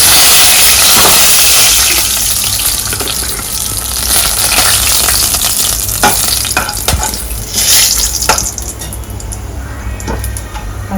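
Cinnamon and cloves frying in hot oil in a pot for a mutton bone gravy, a loud continuous sizzle and crackle with stirring scrapes throughout.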